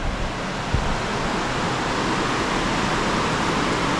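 A rushing river in Sri Lanka produces a loud, constant roar of broadband water noise that fills the whole scene without pause, with no voices.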